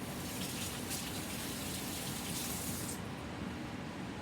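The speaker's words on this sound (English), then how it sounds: "Let me wash my hands." Water runs steadily from a sink tap while hands are washed in a home kitchen, a soft continuous gush that holds evenly throughout.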